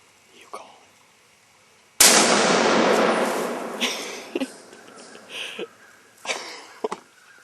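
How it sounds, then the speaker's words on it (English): A single loud muzzleloader rifle shot cracks out close by during a deer hunt, followed by a long rolling echo that fades over several seconds, with a few faint handling clicks afterward. "Nice shooting, Mike."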